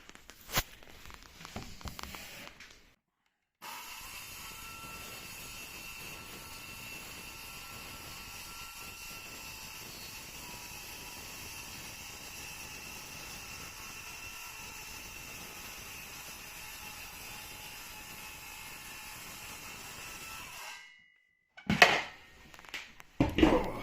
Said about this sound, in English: We've put the track in place and now we're just cutting.